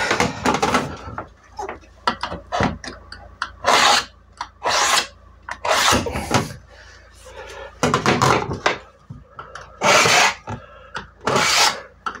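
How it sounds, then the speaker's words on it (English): Scribing a line along a support strut on a Ford Transit Custom van during a window conversion: repeated short scraping strokes in irregular bursts with pauses between, close and fairly loud, no speech. "I need to scribe a line along the top and bottom of the support strut."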